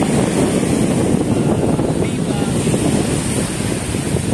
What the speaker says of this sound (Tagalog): Malakas pa rin yung hangin at malakas ang alon.